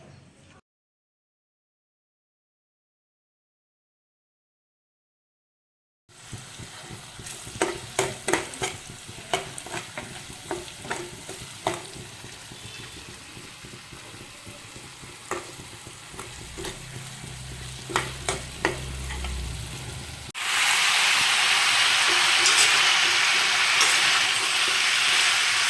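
Mashed tomato masala stirred and fried in a kadhai, giving a steady sizzle with repeated scraping stir strokes after a silent opening, and the frying growing louder and hissier near the end.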